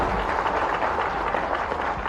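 A rally crowd applauds Prime Minister Narendra Modi in Bhopal with dense, continuous clapping that stays steady throughout, a broad roar of many hands with no talk.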